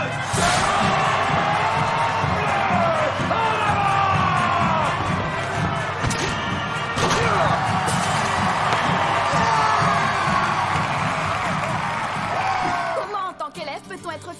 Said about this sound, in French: Un tonnerre d'applaudissements pour accueillir Votez mon bleu!